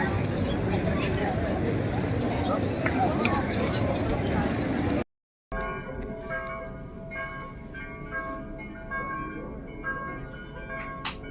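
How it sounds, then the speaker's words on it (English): Church bells in Kotor, Montenegro ring at five o'clock with bright, sustained tones that overlap and fade, heard after a stretch of busy outdoor crowd chatter in a square and a brief cut. "Five o'clock, bells ringing."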